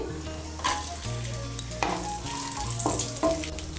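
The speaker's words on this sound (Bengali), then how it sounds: "ঘিটা গলে গিয়েছে, প্রথমে এর মধ্যে আমি কাজু বাদামগুলো ভেজে নেব।" Close, steady sizzling of cashews frying in melted ghee in a pan, with occasional scraping stirs and no voices.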